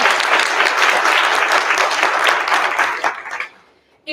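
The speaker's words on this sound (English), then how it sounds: "let's give a round of applause to all these wonderful people" A faculty in-service audience claps in a dense, steady round of applause that carries for about three seconds, then thins out and fades to near silence.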